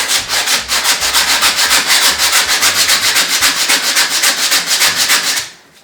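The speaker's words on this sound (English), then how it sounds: "when you sand areas that have metal like this" Steady, vigorous sanding of a suitcase over its metal parts, a rapid back-and-forth rasping rhythm, loud and close, stopping abruptly at the end.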